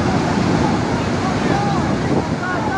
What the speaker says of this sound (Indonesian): Jembatan Kalirogoyo dihantam banjir.